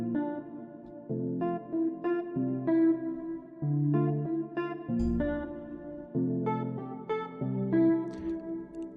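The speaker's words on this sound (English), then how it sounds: "I started with this jazz guitar that sounds like this." Warm, clean jazz guitar preset chords from a stock FL Studio Flex plugin play in a relaxed, steady rhythm, each chord ringing briefly before changing, with no voices.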